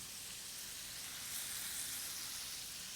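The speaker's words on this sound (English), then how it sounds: "Already starting to sizzle." Salmon sizzles in olive oil in a pan, a steady, soft hiss of frying that holds evenly for three seconds without any talking.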